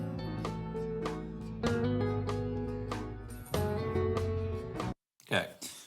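A solo guitar lick from a song is played alone and up close: a run of plucked, ringing single notes and slides in short phrases, cut off near the end by a brief gap and a quick noisy scrape.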